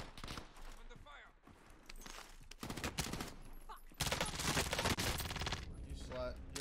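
Rapid bursts of gunfire in the shooter video game Warzone, loud and dense, rattling in stretches with brief gaps, a player talking over the shots.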